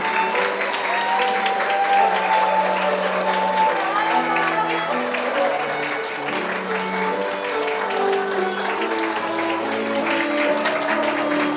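Warm applause from wedding guests in a large ballroom as the bride's parents enter, steady sustained clapping throughout with music playing underneath and a faint murmur of the crowd.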